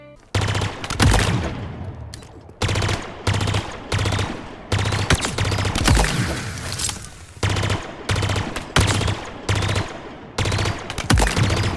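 Rapid bursts of plasma weapon fire in Halo Infinite, loud repeated volleys separated by short pauses, with little or no talk over them.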